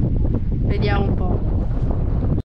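Strong, gusting wind blows across a clear lake in New Zealand, roaring steadily into the microphone with a brief voice cutting through partway.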